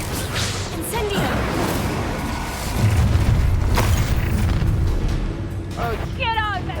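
In Hogwarts Legacy, an Incendio fire spell goes off with a loud whooshing boom and a rumbling burst that swells midway, mixed with other game sounds and voices.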